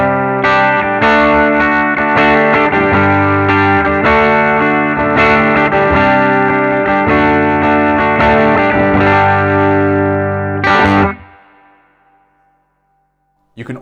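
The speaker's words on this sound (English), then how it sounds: "So this is with the PRS Custom 24, just clean tone, everything at 12 o'clock, a little bit of reverb." PRS Custom 24 bridge pickup played through a hand-wired Vyse Renegade tube amp on a clean setting with a touch of reverb: loud, sustained chords ringing steadily for about eleven seconds, then a final strum that decays to near silence.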